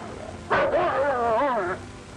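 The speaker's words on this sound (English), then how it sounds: "Pal and the others bark, frightened and angry, unable to understand why the trainers have turned on them." An army dog in gunfire training lets out one long, wavering whimpering howl, close and fairly loud, that rises and falls for over a second before breaking off.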